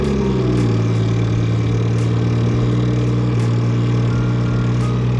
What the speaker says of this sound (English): let's just start the car up.